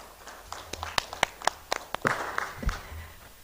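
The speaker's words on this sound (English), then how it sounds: "Another round of applause for him, please." Scattered claps from an audience at a Nigerian medical association's annual conference, a dozen or so sharp, separate hand claps over about three seconds, moderately near, with a faint voice in the background.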